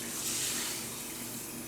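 Tap water runs steadily into a bowl while rice is rinsed for sushi rice, a soft close splashing hiss with no talking.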